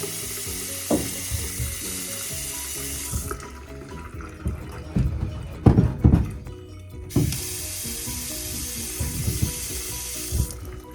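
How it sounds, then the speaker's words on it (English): Water from a tap runs into a newly hooked-up pedestal shop sink in two hissing bursts, stopping briefly between them, with clunks and knocks of handling in the gap and no speech. "Water."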